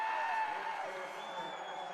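Big crowd at a high school basketball state tournament game between Hunter and Weber, distant cheering and whoops forming a steady wash of noise, fairly faint and even across the moment.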